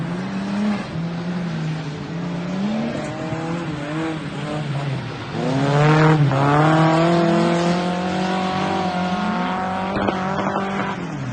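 A turbocharged car engine revs up and down while tires squeal through a long drift on a big sweeping bend, loud and close, with a sharp surge of throttle midway.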